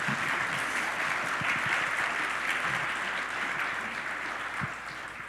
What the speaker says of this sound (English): let's give a round of applause for our Secretary